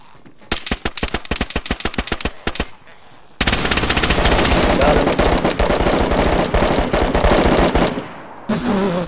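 Gunfire in the survival game DayZ, a quick string of evenly spaced close shots, a brief pause, then a long loud burst of rapid automatic fire, with one last shot at the end.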